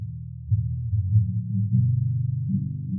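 An acoustic guitar recording with a muddy low-mid EQ boost, heard as a muffled, boomy strum with the bright upper tones stripped away, notes shifting in a steady rhythm.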